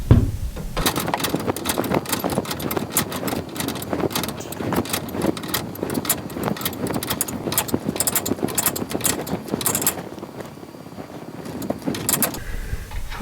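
Garage door torsion spring being wound by hand with a winding tool for 31 turns, heard as a dense run of metallic ratcheting clicks and clanks that fades out near the end.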